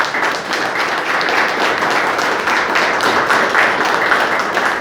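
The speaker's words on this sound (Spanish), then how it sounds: "¿Cuántos le dan un aplauso al Señor?" A church congregation applauds the Lord during a Spanish-language sermon, steady dense clapping throughout at close range, with no voice over it.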